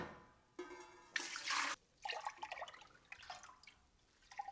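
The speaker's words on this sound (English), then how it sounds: "So now I'm going to skim off the whey as much as possible down to the level of the curd" Whey is scooped off cheese curds during Gruyère making, giving close watery sloshes and drips in several short bursts with small liquid trickles between them.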